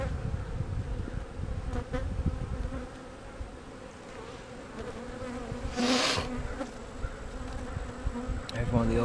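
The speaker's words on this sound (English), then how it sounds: "That bee got on that smoker and burned himself." A single honeybee buzzes agitated and continuous after burning itself on a hive smoker while hive splits are checked, a close droning hum with a brief louder burst partway through.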